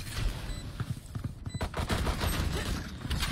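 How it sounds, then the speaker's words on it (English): Rapid bursts of gunfire in a tactical shooter match, dense overlapping shots at a steady loud level throughout, with brief faint speech mixed in. "Gunshot. Gunshot."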